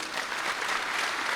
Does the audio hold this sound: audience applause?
yes